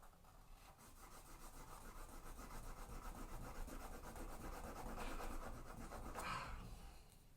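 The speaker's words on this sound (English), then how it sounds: "I was trying to scrape away the paint to give it a border like he's done." Paint is scraped off a canvas, a continuous rough rubbing and rasping that holds steady throughout, fairly close and quiet, with no speech.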